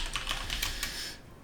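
Quick keystrokes clatter on a computer keyboard, a close, irregular run of clicks lasting about a second before stopping.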